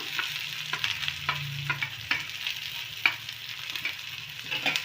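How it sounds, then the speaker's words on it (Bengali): Chopped onion for paneer momo filling stirred in a pan, a continuous gentle sizzle with repeated light spatula scrapes and taps spread through, close and fairly quiet, no talking. "পেঁয়াজটা আমি ওই হালকা নেড়ে নেবো একটু"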